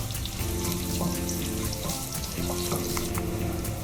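Coconut pieces fry in a pan for a Kerala kadala curry, giving a continuous close hiss and crackle that stays even and moderately quiet, with faint clinks and a tonal hum underneath.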